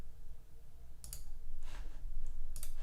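A few crisp computer mouse clicks, sharp and close, spaced apart over a low background hum.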